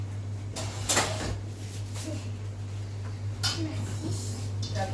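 Chocolate and butter are stirred in a bain-marie, with occasional light clinks and scrapes of a utensil against the bowl over a steady low hum.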